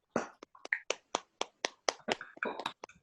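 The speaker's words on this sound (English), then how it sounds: "unmute yourselves so we can hear the applause." Scattered hand claps and snaps from participants unmuted on a video call, a dozen or so separate sharp hits in an uneven rhythm, close and fairly quiet, with no talking.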